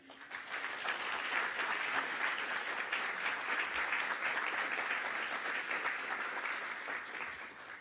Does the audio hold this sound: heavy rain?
no